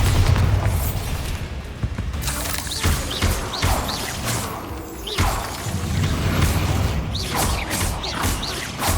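A Bombarda blasting spell explodes in the Hogwarts Legacy video game: heavy booming blasts that recur several times over a dense, rumbling backdrop of crashing debris and game effects.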